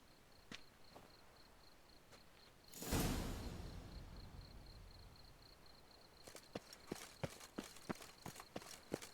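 Horse hooves clip-clop in The Witcher 3 video game. After a loud whoosh, a rapid run of sharp hoof strikes builds up, with faint insect chirping in the background.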